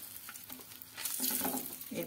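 Eggs frying in a pan with turmeric, a soft sizzle that swells into louder crackling spatter halfway through, close by and steady, with no one talking.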